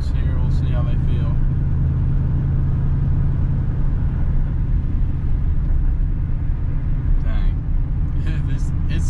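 A lifted pickup truck with a 3-inch spindle lift rolls over a couple of small road bumps, its steady low engine and road rumble droning throughout with a few faint thumps, under a brief spoken word from the driver.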